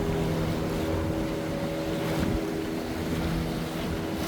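A river cleaning boat's engine drones steadily nearby with a low hum on a Bangkok river, wind buffeting the microphone and water rushing along throughout.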